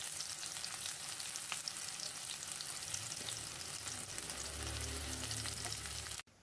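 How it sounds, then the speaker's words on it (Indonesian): Sliced shallots sauté in hot cooking oil, a steady close sizzle and crackle that runs unbroken and cuts off abruptly at the end. "Kemudian panaskan minyak goreng, tumis terlebih dahulu irisan bawang merahnya."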